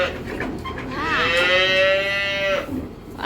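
A bull lets out one long, loud moo close by, a rising then sustained bellow lasting about a second and a half before it trails off, with farm noise around it.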